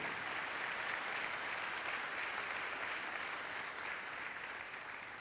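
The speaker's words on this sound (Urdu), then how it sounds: "اب آپ اپنے لیے تالی بجائیں" A church congregation claps together in sustained, dense applause that stays even and moderately distant for several seconds, with no voice over it.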